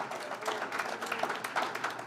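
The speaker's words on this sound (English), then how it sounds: "I hear some clapping about having fun" An audience claps at the Pescadero town planning workshop in March 2019, producing a dense, continuous patter of many hands at moderate distance for a couple of seconds.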